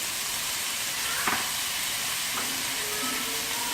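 Capsicum and finely chopped onion frying in a hot pan, a steady bright sizzle and hiss with a couple of faint clinks, close and continuous with no voices.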